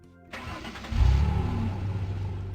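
A video game car engine cranks and catches, then settles into a low, steady idle with a slight rev, heard alone and fairly close.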